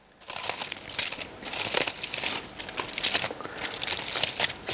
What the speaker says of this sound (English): You carefully open the foil and make a nest shape with it around the apple.